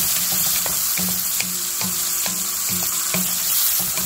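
Watermelon rind curry with coriander, turmeric and a little water cooks in a pan, with a continuous sizzle under rhythmic stirring scrapes repeating about twice a second, close and alone.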